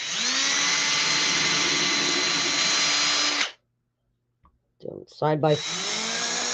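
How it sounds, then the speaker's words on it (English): A small drill bores holes in a craft piece with a steady high whine for a few seconds, then stops; after a pause someone speaks briefly and the drill starts up again. "And then we're going to drill a couple more holes"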